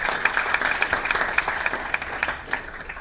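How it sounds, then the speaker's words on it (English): An audience at a corporate results presentation claps as the chief executive takes the stage, a lively crowd applause with distinct sharp claps standing out, sustained throughout. "A round of applause for him."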